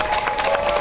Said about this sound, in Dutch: Geef alle toverlanders alsjeblieft een groot applaus.